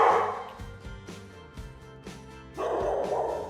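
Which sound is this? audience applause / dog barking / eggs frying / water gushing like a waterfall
dog barking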